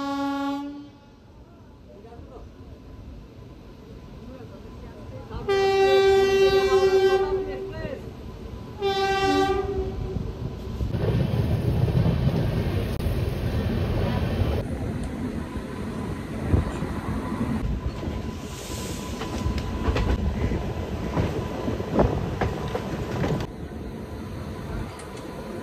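The Jagannath Express sounds two long, loud horn blasts, then passes with a sustained rumble and clatter of wagons that continues to the end.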